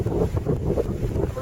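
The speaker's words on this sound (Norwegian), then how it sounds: "Blåser sånn av vind." Wind gusting through a winter forest in Femundsmarka, a steady low roar with rushing swells, buffeting close to the microphone.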